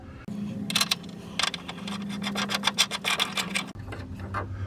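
Shock absorber sliding onto its mount on a 1979–1998 Fox Body or SN95 Mustang during a suspension upgrade: close, dry rubbing and rasping scrapes in short bursts with a few small clicks, no talk.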